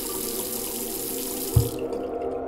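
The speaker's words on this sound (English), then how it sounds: "They rushed to pour water on Yuko's head, hoping that the body would return to its original size" Water pours in a steady, close rush for about two seconds with a soft thud partway through, then cuts off into a quieter tail.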